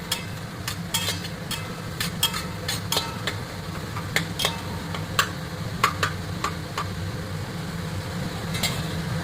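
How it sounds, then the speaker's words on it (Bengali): Carrots and onions fry in a pan with papaya and long beans for a chicken stew, a low sizzle under frequent sharp clinks and scrapes of a spatula stirring against the pan. "5 মিনিট পরে আমরা দিয়ে দিলাম ক্যারট আর পেঁয়াজটা, এটাকেও একটু ভেজে নেব।"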